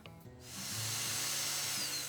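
Power tool driving fasteners to mount hinge base plates on a gate post, a short close whirring drill note that ramps up quickly and holds steady for about a second and a half.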